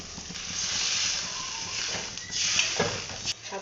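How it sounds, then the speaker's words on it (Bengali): Water poured into a hot pan of mushroom curry sets off a loud, broad hissing sizzle that swells and rolls on, close and continuous, with a brief clink near the end. "আমি এবারে জল দিয়ে দেবো"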